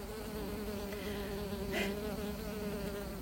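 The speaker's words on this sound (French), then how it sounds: "Ouais, elle est super jolie, c'est une abeille," A bee buzzes close to a phone outdoors, a steady droning hum with a brief louder swell as it moves nearer, no talk.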